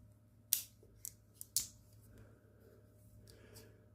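Scissors on a Swiss Army knife multitool are opened and worked, giving a few quiet, sharp metallic clicks and snips close up in an otherwise still room.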